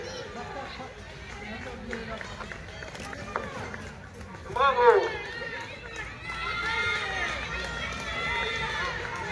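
Girls finishing a school cross-country race, with footsteps of runners, crowd chatter and cheering around them, and someone speaking over the scene throughout.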